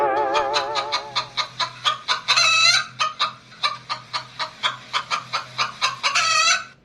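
Chickens cluck in a fast, steady series of sharp notes, with a rooster's brief crow breaking in partway through and the clucking resuming after; no one speaks.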